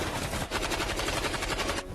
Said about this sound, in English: then they came under machine gun fire